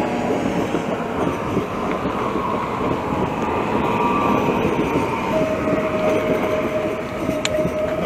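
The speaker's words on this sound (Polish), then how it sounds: "No i proszę, jest i kolej śląska." A Silesian railway train rolls past close by, a steady loud rumble of wheels and carriages with a sustained tonal whine joining near the end, and no talk over it.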